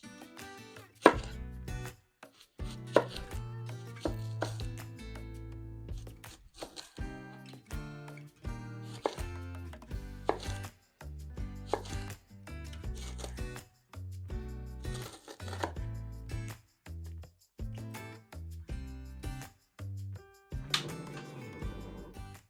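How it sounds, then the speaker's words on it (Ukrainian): A knife chops an onion into thin half-moon slices on a cutting board, a steady run of crisp, close taps that pause briefly now and then. No voices. "розрізаємо її напополам і отак тоненькими скибочками нарізаємо"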